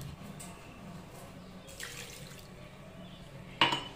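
Water runs from a tap into a bowl of salt and vinegar marinade for fried chicken, a soft steady trickle with a sharp clink of glass or metal near the end, no voices.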